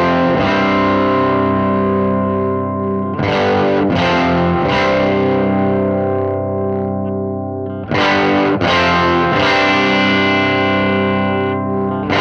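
Marshall Origin 20C guitar amp with the presence control at zero, playing distorted electric guitar chords that ring out and sustain, with a few fresh strums, loud and alone.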